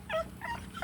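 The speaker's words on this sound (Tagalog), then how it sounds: "Mabait siya na aso." A gentle dog gives a quick, faint whimper, a few high thin yips in under a second, heard quietly over low background noise.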